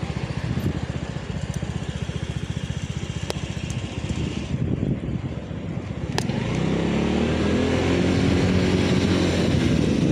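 Steady highway traffic on the autostrada flows past below, a continuous engine and tyre roar that grows louder and fuller toward the end as vehicles pass close by.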